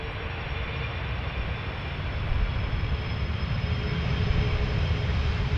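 Aeromexico Boeing 787 Dreamliner arriving at Amsterdam Schiphol from Mexico City, a steady broadband jet roar that swells slightly as the aircraft nears, with no speech.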